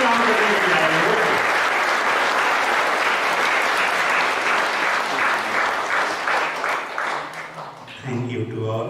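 Audience applause at a live spiritual gathering in Toronto, a dense steady clapping that fills the hall for most of the stretch, then thins out as a voice begins talking near the end.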